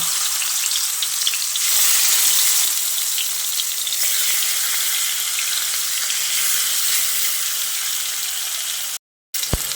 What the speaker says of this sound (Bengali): তেল ভালোভাবে গরম হয়ে এলে নুন হলুদ মাখানো মাছগুলো দিয়ে দিচ্ছি